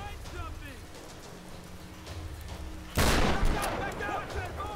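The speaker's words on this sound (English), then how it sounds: "Shotgun." Shotgun blasts ring out in Tomb Raider (2013) during a firefight, a loud burst after a quieter stretch of ambient rain-like game noise, with a voice talking through the scene.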